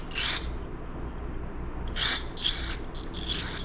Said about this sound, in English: if I spray fuel or a carburetor cleaner in here